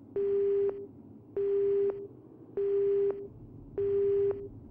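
A telephone busy tone after a hang-up in the PlayStation game Resident Evil Survivor: four evenly spaced steady beeps, each about half a second long with equal gaps, loud and clean over a faint background rumble.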